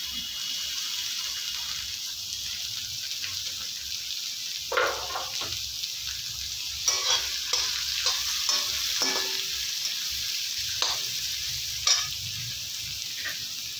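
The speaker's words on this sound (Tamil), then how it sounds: "ஹை ஃப்ளேம்லேயே வச்சு கிண்டுங்க." Capsicum and onion, with three kinds of bell pepper, stir-fry over a high flame, a constant hissing sizzle broken by repeated scraping and tossing strokes of a spatula in the pan.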